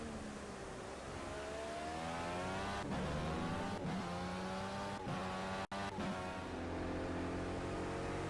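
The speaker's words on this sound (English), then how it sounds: "This is my driving through the final turn." IndyCar driven through the final turn at Laguna Seca, its engine screaming steadily at high revs with shifting pitch as it rolls on the power, close and loud with brief gear-change dips.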